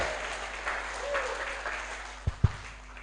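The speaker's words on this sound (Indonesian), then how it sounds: "tepuk tangan dulu untuk Mas Dima Akhyar" A crowd at a live political party event applauds in steady, moderately loud clapping, with a couple of sharp thumps near the end.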